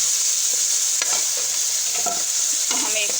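Tomatoes and spices frying with garlic and onion for a kandoli salan, a loud hissing sizzle close up with intermittent stirring scrapes and clinks.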